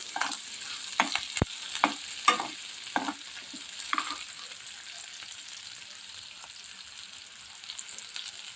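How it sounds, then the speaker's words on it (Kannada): Spices fry in oil in a pan for restaurant-style tomato soup, giving a soft, low sizzle with several scraping and stirring knocks early on that fade to a quiet, steady hiss. "ಎಲ್ಲ ಮಸಾಲೆ ಒಂದೆರಡು ಮೂರು ನಿಮಿಷದವರೆಗೆ ಎಣ್ಣೆಯಲ್ಲಿ ನಾವು ಬೇಯಿಸ್ಕೊಳ್ಬೇಕು"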